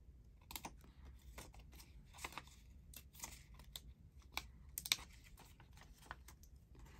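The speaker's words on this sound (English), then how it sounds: "I'm just snipping out a few." Small embroidery scissors snip quietly at paper, irregular little cuts and rustles up close, soft and intermittent with no voices.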